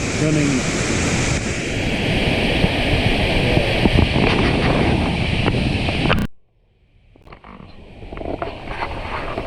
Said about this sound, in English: Very relaxing, just listening to the water, just going, running.